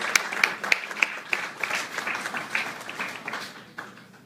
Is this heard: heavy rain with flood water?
no